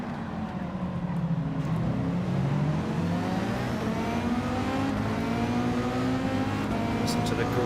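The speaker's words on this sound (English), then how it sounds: "Listen to the grunt of that Mercedes." A Mercedes race car engine in Gran Turismo 7 drones loudly and steadily, its pitch climbing and falling through the gears, with other race cars blending into the continuous roar.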